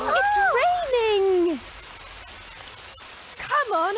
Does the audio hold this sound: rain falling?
yes